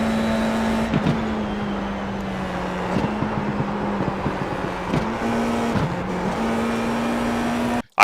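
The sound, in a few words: IR-04 race car at Lime Rock Park, racing video game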